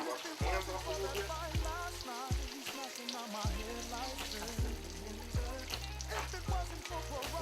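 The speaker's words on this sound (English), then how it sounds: "we're going to let these fry for a minute, and we want them to get golden brown" Salmon pieces fry in hot oil, giving a steady, close crackling sizzle with regular soft pops and faint background music underneath.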